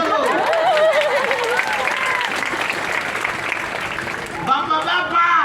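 Audience applause at an evangelistic revival gathering in Manokwari, a dense, steady clapping throughout with a brief dip near the end before resuming strongly.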